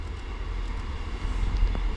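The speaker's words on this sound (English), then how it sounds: "arriving in now is our train" A ScotRail class 158 diesel train arriving at a station, heard as a low, steady rumble with a faint squeal near the end.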